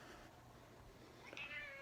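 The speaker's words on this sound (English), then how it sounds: "The cat's freaking out." A cat meows indoors, a short rising-and-falling call near the end, fairly faint against a quiet room background.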